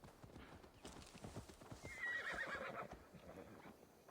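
Rhythmic hoofbeats clop steadily as a horse trots in the video game Assassin's Creed Valhalla, with a horse's whinny rising briefly in the middle.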